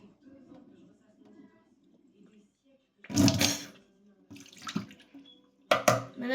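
Water from a tap runs in short loud bursts while preparing to wash feet before horse riding, with a voice speaking softly in between.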